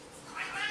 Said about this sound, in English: my dog is fighting the cat